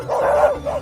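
Cartoon dogs bark in a quick burst of yappy woofs followed by a shorter second bark, close and loud with no talking over them.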